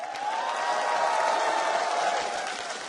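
A crowd at the League of Legends World Playoffs at LA Live in downtown Los Angeles cheers and applauds for Azubu Frost, a steady wash of clapping that swells and holds, heard from a distance.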